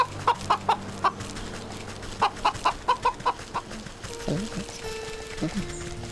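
In the video game Wytchwood, a chicken clucks in quick rhythmic runs of short pecking clucks, repeated in two bursts, followed by softer game tones and a brief voice.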